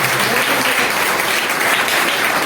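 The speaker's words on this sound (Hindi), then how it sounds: "एक बार जोरदार ताली हो जाए अपने आप के लिए।" Audience applause fills a hall at an Ayurvedic business seminar, a steady dense wash of clapping from a large crowd, loud and continuous without pause.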